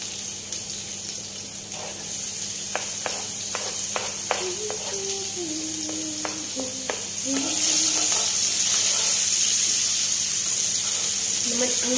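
Chopped onion browning in oil in a pan, a steady close sizzle and hiss with a few sharp spatters and stirring clicks, growing slightly louder toward the end; a voice speaks faintly underneath at times.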